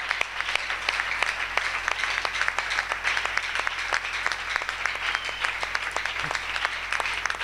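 A church congregation applauds during a Thursday worship service, steady dense clapping that fills the whole stretch at an even level, with a brief low voice near the end.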